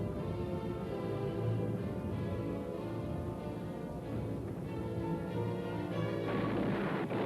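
Artillery fire and aerial bombardment of the WWII battle at Cassino: a continuous, dense rumble of distant shelling and explosions, steady throughout with a heavier burst near the end.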